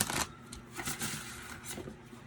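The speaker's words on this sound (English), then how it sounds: "I just have to keep shuffling it to get it broken" A new plastic deck of playing cards with brown-edged backs is riffled and shuffled by hand, giving soft, close papery flutters and light slaps in quick succession with no voices.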